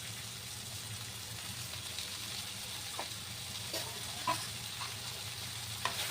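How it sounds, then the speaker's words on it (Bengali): Prawns frying in a pan, a soft steady sizzle with a few faint clicks and stirring taps, no voices. "এবার চিংড়ি মাছগুলো অ্যাড করে দেবো"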